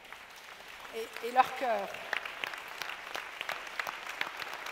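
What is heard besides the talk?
audience applauding the panelists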